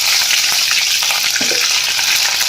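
Cumin seeds and green chilies sizzle loudly in hot oil for an aloo kurma, a dense, close crackling hiss with a couple of brief stirring knocks.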